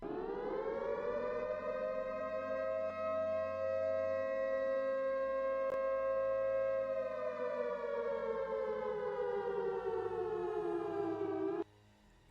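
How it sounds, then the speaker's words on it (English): A siren wails continuously, a loud sustained tone that holds steady then slowly falls in pitch before cutting off abruptly near the end, with a low rumble underneath. "Suddenly, you listen a siren."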